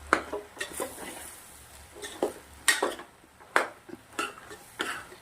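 A spoon stirs turmeric, chili powder and coriander-cumin powder into pulao in a metal pot, giving a run of close, irregular scrapes and clinks against the pot's sides, with short quiet gaps between strokes and no talking.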